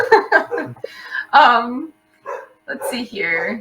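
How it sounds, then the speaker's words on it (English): A pet dog barks in short bursts in a home during an online talk about growing mushrooms, the barks mixed in with a person speaking close by. "Sorry if you can hear my dog barking here"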